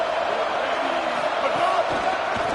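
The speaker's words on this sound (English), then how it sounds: "here comes the noise. This crowd is trying to inspire this defense to make a big red zone stop" A college football stadium crowd roars in a dense, sustained wash of noise during a red zone defensive stand, with a commentator talking over it.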